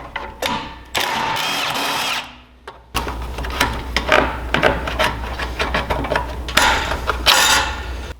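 Ratchet backing out three 10 mm bolts from the throttle bracket box on a Harbor Freight 459cc Predator engine, with bursts of close metallic clicking and mechanical rattling separated by short pauses.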